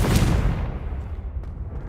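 A Confringo blasting spell explodes in the Hogwarts Legacy video game, a loud broadband boom at the start that rumbles and decays over about two seconds, with no talking.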